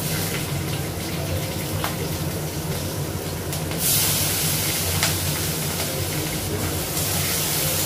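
Nigella seeds, cumin seeds and dried and green chillies sizzling in hot oil give a steady, loud hiss that grows brighter partway through, with a few short crackles and no talking.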